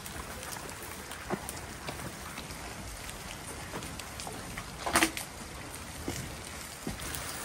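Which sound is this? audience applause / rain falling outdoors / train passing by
rain falling outdoors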